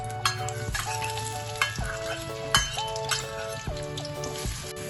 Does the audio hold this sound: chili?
yes